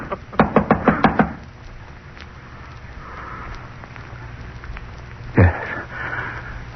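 A fist knocks on a door in a 1943 radio drama, five sharp raps in quick succession, close and loud. A short quiet stretch follows, then a heavier single thump and some shuffling near the end.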